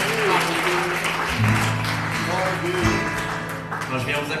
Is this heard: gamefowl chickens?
no